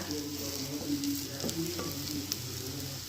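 Fish roe frying in a covered pan, a steady close sizzle with soft crackles and an occasional stir or lid tap, no voices.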